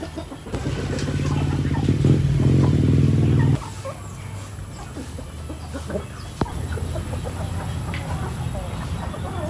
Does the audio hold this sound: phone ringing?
no